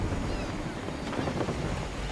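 Wind rushes steadily while a sailing ship cuts across open sea in the Assassin's Creed 3 video game, a dense, continuous whoosh with a low rumble of water, constant and fairly loud with no talk.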